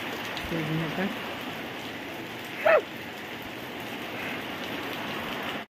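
Steady rain falls on surfaces as a constant faint hiss, with a short voice in the background and a brief brighter sound partway through.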